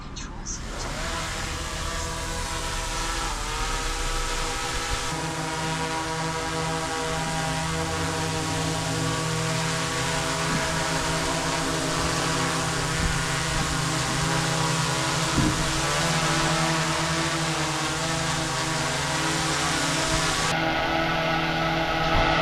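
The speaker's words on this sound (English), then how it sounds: "this is going to be the first flight of this DJI drone" A DJI drone lifts off on its first flight, its propellers giving a loud, steady, high whine close by that holds for about twenty seconds, with faint voices underneath.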